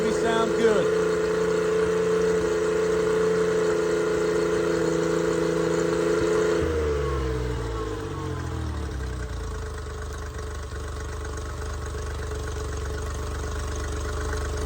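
Boat engines idle steadily at the start of boating season after fogging oil has burned off, a close, loud, even drone that settles to a lower, smooth idle partway through.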